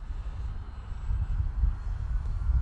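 A Volantex Ascent RC bush plane with big Tundra tires flies past, its electric motor and propeller giving a steady droning whir that swells slightly louder midway, mixed with low wind rumble.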